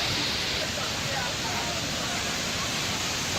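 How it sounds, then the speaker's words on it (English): Boti Waterfalls in Ghana roar as a dense, steady wash of falling water, loud and close, filling the whole moment without a break. "Here is the Boti Waterfalls."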